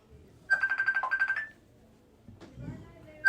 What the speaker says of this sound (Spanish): Llamó el teléfono.